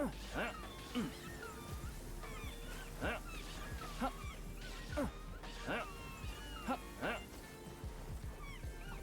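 Seal-like creatures in the video game Palworld give shrill, gull-like calls in repeated bursts, mixed with throwing and impact sounds over game music, with a voice talking throughout.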